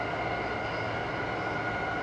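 JR E217 series commuter train running on the Sobu Rapid and Yokosuka Line between Chiba and Ofuna, a steady, loud interior rumble and roar of wheels and motors with no break or announcement.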